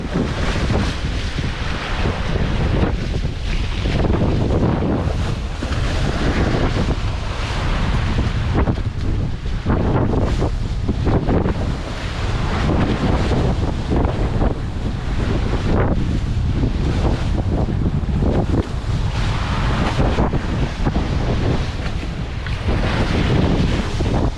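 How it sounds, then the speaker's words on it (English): Sailboat sliding through the Caribbean Sea at about ten knots between Martinique and Saint Martin, with constant loud wind buffeting the microphone over rushing waves and hull wash throughout. "Sliding nicely through the water, doing this, I think around 10 knots."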